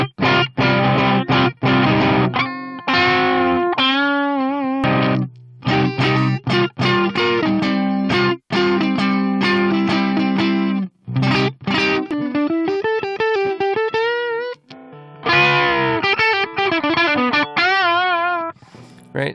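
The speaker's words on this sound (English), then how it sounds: "here's what it sounds like with just the stage 1 distortion." Electric guitar with a mild overdrive tone from a stage 1 distortion plugin in REAPER, playing chords and short melodic runs with frequent stops, loud and close, no voices.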